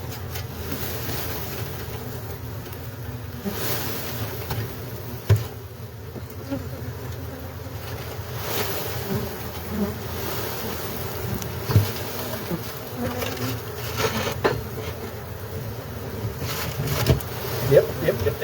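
Honey bees buzz in a hive inside a wine barrel during a removal, a constant close drone with occasional thumps and knocks rising above it.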